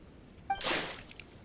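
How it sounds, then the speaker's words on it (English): Water splashing onto a character in Genshin Impact: a brief chime-like cue, then a quick, soft whooshing splash that fades within a second, faint and alone. "Mein Fräulein means to splash him with water."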